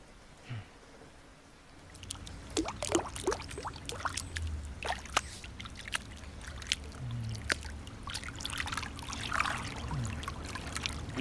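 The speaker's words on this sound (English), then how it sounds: "give me a second to wash my hands" Tap water runs while hands are washed, a steady splashing trickle close by, with soft handling bumps and intermittent drips throughout.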